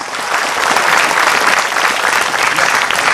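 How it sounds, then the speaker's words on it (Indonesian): Audience applause at a talk event, dense sustained clapping from a large crowd that stays loud and even throughout, near and continuous. "Tepuk tangan boleh buat Dr. Aisyah."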